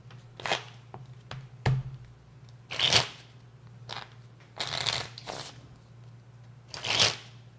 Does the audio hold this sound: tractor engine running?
no